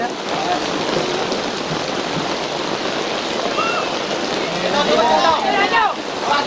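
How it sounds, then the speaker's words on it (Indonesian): Steady rain pours down across an outdoor village football pitch during a match, a dense continuous hiss with faint shouts and whistles in the background. "hujan sudah mulai turun"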